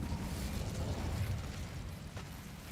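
A fire spell cast in the video game Hogwarts Legacy gives a dense, roaring burst of flame that holds steady for a couple of seconds and then eases off slightly.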